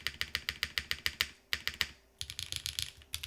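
Close, crisp keystrokes on a Luminkey Lumino75 mechanical keyboard come in quick bursts of typing with a short pause midway, clacky and alone.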